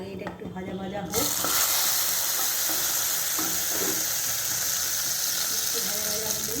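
Boiled dal hits a hot pan and bursts into loud, steady sizzling frying after a quieter start with some background clatter, and a voice is heard faintly under it.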